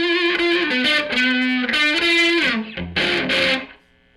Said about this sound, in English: so you can crank it and get all the natural distortion from cranked tubes